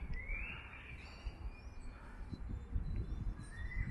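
Faint, intermittent bird calls drift through a quiet forest-like estate garden in Kyiv, a few thin high chirps and whistles over soft background rumble.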